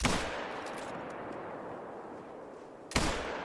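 A rifle fires at a red deer in a hunting video game: one sharp report at the start fades into a long, dull decay, and a second crack follows about three seconds later.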